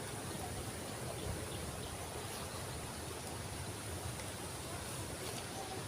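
Steady, even rushing of river water beside a riverbank eggplant patch, a constant broadband wash with no pauses and no talk.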